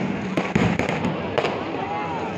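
Fireworks at the Irinjalakuda church feast (pindi perunnal) burst several times in quick succession, loud and close, over a steady wash of crowd noise.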